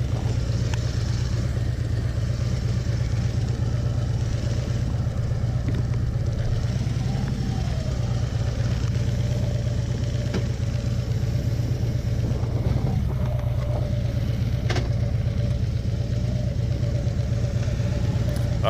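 A 2018 Harley-Davidson motorcycle engine drones steadily while riding on a rural road, a constant loud low rumble with wind noise and occasional small shifts in pitch.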